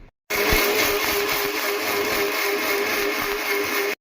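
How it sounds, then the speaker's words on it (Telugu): An electric mixer grinder grinds char masala with garlic, starting abruptly after a brief pause and then running as a steady, close whirring drone with a faint rattle until the end. "ఇదిగోండి చార్ మసాలా మిక్సీ పడుతున్నా."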